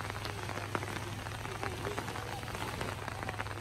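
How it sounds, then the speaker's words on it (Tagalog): Rain falling at a campsite at Mclean Creek in Kananaskis Country, a steady dense patter of drops on surfaces with a low hum underneath, continuous and fairly close, with no talk. "ang senaryo sa camping site kapag umuulan"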